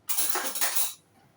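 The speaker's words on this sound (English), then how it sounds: "let's fish out some of this ragu with a spoon" A metal spoon scrapes and clinks against a pan while scooping out a dry meat ragu, one bright rasping burst just under a second long that cuts off into near silence.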